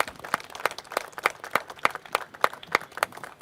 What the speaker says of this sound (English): if you'd like to join me in a round of applause just to show our appreciation for the speakers